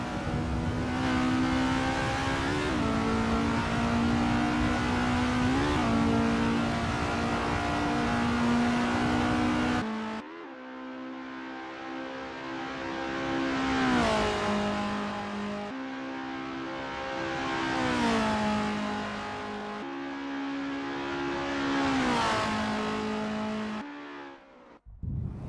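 A single Estonia-25 formula car engine at Mont Tremblant in the Assetto Corsa racing game revs high and steady, then drops and climbs again through repeated gear shifts and braking, alone with no voices.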